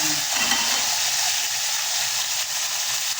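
Food fries in a pan for a simple home-cooked Filipino dish, giving a steady, close, dense sizzle that holds evenly throughout with no voices over it.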